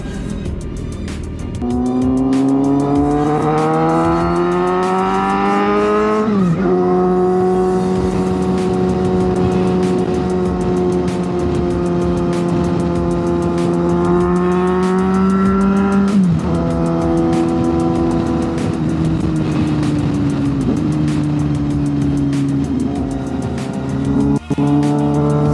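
A motorcycle engine revs hard and loud up close, holding high sustained revs with pitch drops and re-climbs around two gear-like shifts, part of a rev-bombing session near Tagaytay.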